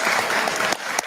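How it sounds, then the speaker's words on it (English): Audience applause at a live event with world leaders present, a dense burst of steady clapping close by that fades near the end, with a faint voice cutting in briefly. "I didn't know they were allowed to applaud"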